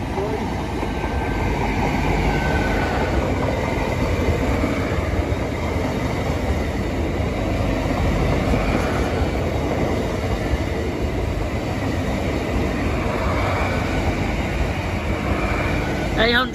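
Train passing a level crossing: a steady, loud rumble of rail wagons running continuously, close by, with a faint high whine above it, and no voices.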